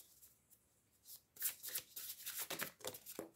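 Fortune-telling cards shuffled by hand during a tarot reading, a quiet pause and then a run of crisp, rapid riffling flutters in close succession, near and fairly loud with no talking.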